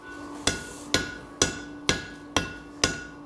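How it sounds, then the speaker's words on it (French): Hand hammer blows on forged metal while smoothing out marks left by a power hammer on an iron horse sculpture, six evenly spaced ringing strikes about half a second apart, close and loud with no talking. "j'efface les coups de marteau laissés par le marteau pilon"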